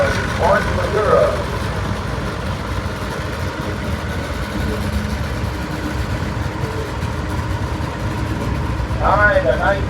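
A 1979 Allis-Chalmers 175 tractor rolls past in a tractor parade in Boonville, Missouri. Its engine gives a low, steady rumble under talking.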